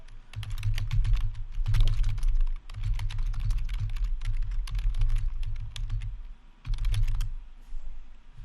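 Fast bursts of close, crisp clicks come from typing on a computer keyboard, in steady runs with brief pauses between them and no speech.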